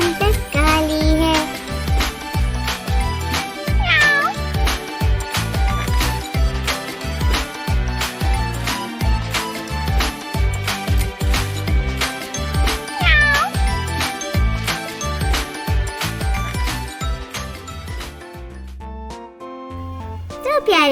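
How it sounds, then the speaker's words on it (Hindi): A black cat meows several times inside a children's Urdu poem set to music, its rising cries sounding over steady singing and a busy, loud backing track. "बिल्ली मैंने पाली है"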